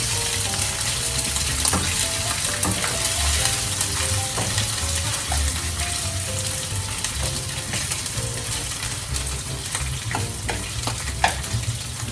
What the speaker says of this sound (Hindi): गार्लिक में थोड़ा सा ब्राउन करना है इसको भी।